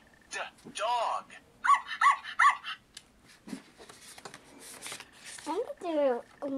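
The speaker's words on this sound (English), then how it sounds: "Dog." Recorded dog barks and yips played by a LeapReader reading toy, bright and electronic-sounding, in a short burst of three barks mixed with a child's and adult's voices talking nearby.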